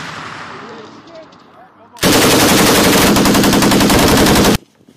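An M240B machine gun fires one long, loud, continuous burst lasting about two and a half seconds on an unknown-distance range, after a quieter stretch with faint background sound.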